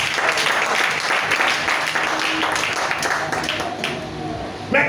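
A church congregation applauds in a steady, dense wash of clapping that holds loud for nearly five seconds before easing slightly, with a brief louder burst at the very end.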